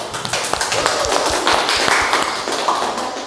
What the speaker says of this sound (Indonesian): kita kasih tepuk tangan dulu, aplaus dulu.